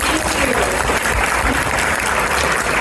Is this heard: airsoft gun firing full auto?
no